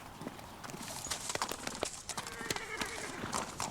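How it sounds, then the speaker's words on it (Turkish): Hooves of a wild Yılkı horse clip-clop in a quick irregular rhythm, moderately close, over a noisy outdoor background. "Yılkı atı bu, yılkı atı."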